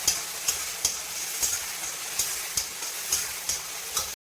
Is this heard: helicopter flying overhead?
no